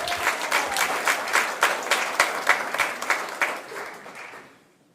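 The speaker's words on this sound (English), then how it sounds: "Round of applause, folks" Applause from an audience at a criminal justice awards ceremony, a lively burst of clapping with rhythmic accents that carries for several seconds and then fades away to silence.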